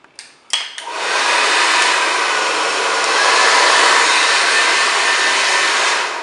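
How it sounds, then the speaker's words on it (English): An Andis Professional 1875 hair dryer switches on after a few clicks and blows in a loud, steady broadband rush up close, used at a barber's while styling hair, with no talking. "Also using my Andis Professional 1875 hairdryer."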